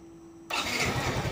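A Yamaha X Ride motorcycle engine cranks and catches after its alarm is unlocked, going from near silence to a steady, close, loud running idle with no talk.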